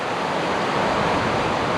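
The West Dart river on Dartmoor runs in spate after Storm Francis, a loud, close and unbroken roar of rushing water with no voices over it.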